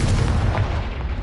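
Confringo explosive spell blast from Hogwarts Legacy, a loud, continuous booming rumble with heavy low-end impact filling the whole moment, no voices over it.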